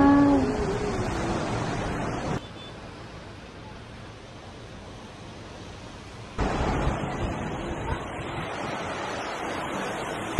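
Ocean waves wash onto a beach at Songdo in steady broadband surf with wind across the microphone, louder at the start and end with a quieter stretch in between.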